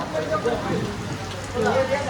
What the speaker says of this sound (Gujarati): ચાલુ થઈ ગયું છે ભમાભમ વરસાદ